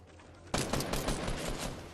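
Shotgun blasts in a Fortnite battle royale solo match ring out after half a second of quiet, several loud close shots in quick succession over dense game noise.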